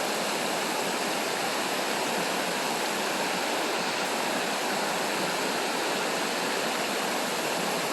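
A river waterfall roars steadily during a paddling trip, a dense, continuous rush of falling water that stays loud and close throughout with no voices.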